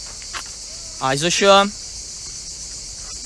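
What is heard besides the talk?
crickets chirping at night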